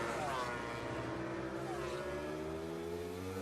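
MotoGP racing motorcycles at the 2019 Thailand Grand Prix braking into a corner, engines whining loudly and sliding downward in pitch as they shed speed, with commentary running over them.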